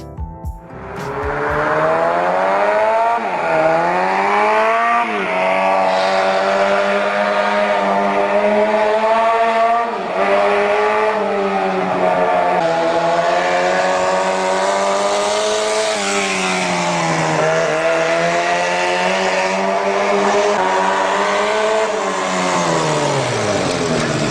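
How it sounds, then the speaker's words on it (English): A small four-cylinder motorcycle engine runs loud and steady close by, its pitch rising and falling as the throttle is worked, with no talking. "The sound of this small 4-cylinder engine reminded me of the legendary Honda CB754"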